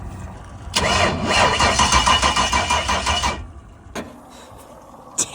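A jet boat engine cranks repeatedly with a rapid rhythmic churning for about three seconds and fails to catch, then stops; a couple of short clunks follow in near silence.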